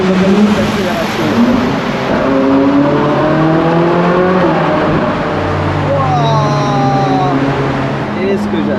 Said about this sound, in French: Le moteur il est assez chaud, on va faire une accélération.